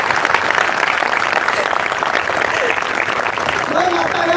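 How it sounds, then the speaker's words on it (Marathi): Sustained audience applause at a Marathi political gathering, dense steady clapping filling the whole stretch with a voice speaking over it toward the end. "टाळ्या वाजवा"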